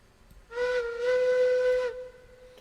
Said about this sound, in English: Alright, whistle still works.